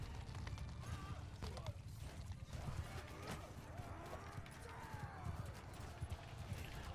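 Cavalry horses gallop in the Mount & Blade Realm of Thrones mod as Targaryen knights charge the forces of Lys, a continuous rumble of hoofbeats mixed with battle clatter, heard fairly faintly throughout.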